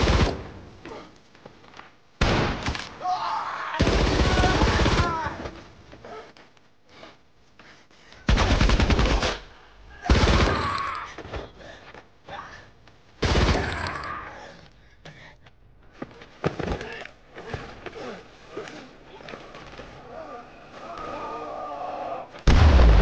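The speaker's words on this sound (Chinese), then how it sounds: "端起机枪冲了上去" Machine gun fire from a war film, heard as several loud rapid bursts broken by quieter stretches of rumble, clatter and scattered impacts.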